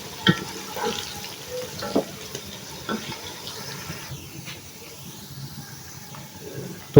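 Six small chopped onions fry in a pan while browning for Kabuli pulao, giving a faint steady sizzle with occasional soft clicks and stirring scrapes.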